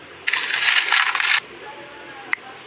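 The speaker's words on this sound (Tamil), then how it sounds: "யாரோ காசு வச்ச சவுண்டு கேட்குது." A loud, close rattling clatter of coins dropping into a container lasts about a second, followed by quiet and one sharp metallic clink, with no voices.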